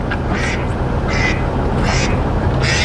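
Several loud, nasal duck quacks come in short bursts over a steady low rumble, close by.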